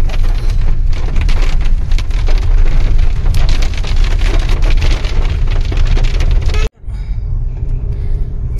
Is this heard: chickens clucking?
no